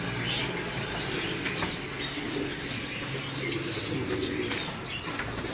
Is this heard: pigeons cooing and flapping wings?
yes